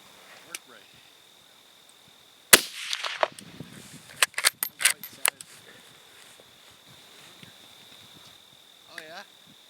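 Zastava rifle firing Dominion 123 grain full metal jacket rounds at a 100-yard range: one sharp, loud gunshot followed by a ragged burst of echoes and clatter, with insects chirping steadily in the background.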